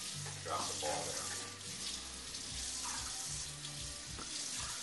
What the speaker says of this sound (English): Thin it down a little bit to make it really smooth. Cold water.